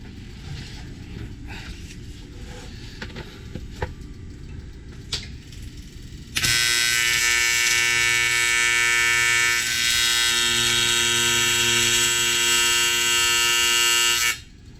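Electric arc welding on aluminum in a lab, starting abruptly after about six seconds of quiet background clatter and running as a loud, steady buzzing hiss for roughly eight seconds before cutting off.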